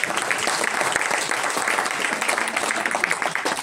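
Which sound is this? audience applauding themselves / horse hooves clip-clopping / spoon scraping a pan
audience applauding themselves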